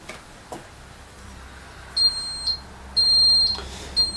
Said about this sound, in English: We should get an alarm.